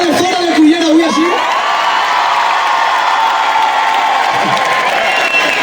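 A large crowd at a concert in Cullera applauds and cheers loudly, with whoops and shouts over sustained clapping, and a voice calls out briefly near the start.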